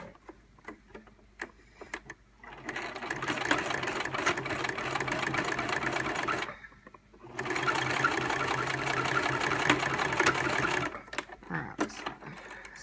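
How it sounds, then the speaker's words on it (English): A sewing machine sews shut the end of a fabric storage case with interfacing, running in two long steady bursts separated by a short pause, with a few quiet clicks and handling sounds before and after. "sort of fold it in and sew it closed"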